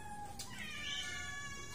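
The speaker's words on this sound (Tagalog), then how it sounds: "Ang daming pusa." Several rescued cats meowing close by, overlapping high wavering cries over a steady background murmur, with no talk.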